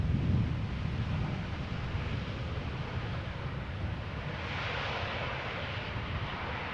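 A KLM Boeing 737-800 airliner arrives at Amsterdam Schiphol Airport from Paris Charles de Gaulle, a steady, distant engine roar blended with wind noise that holds at an even level throughout, with no voices.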